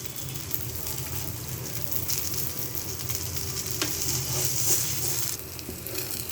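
Onion dosa frying in oil on a hot pan, a steady close sizzle and crackle running throughout with small bursts of spatter and no talk.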